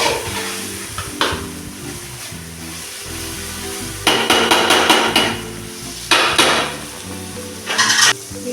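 Boiled raw banana and tomato stir-fried with ground masala in a pan, with repeated bursts of metal spoon scraping and clanking against the pan over a soft steady sizzle.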